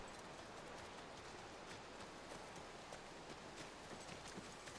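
Horse hooves clip-clopping in the video game The Last of Us, a quick irregular patter of hoofbeats over a steady hiss, fairly faint and continuous.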